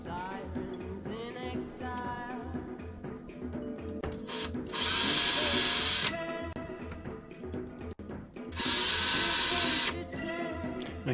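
Power drill driving six screws through boards into a plate, two sustained loud whirring bursts of a few seconds each, with clatter and handling noise of tools and wood between them.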